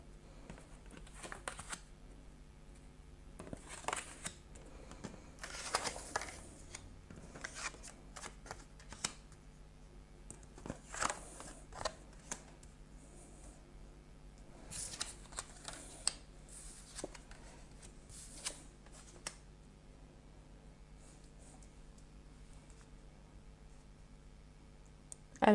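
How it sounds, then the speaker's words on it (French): Tarot cards from a large deck being turned over and handled, producing repeated soft shuffles, slaps and flicks in irregular bursts, close and fairly quiet with no talking. "Alors, je les retourne."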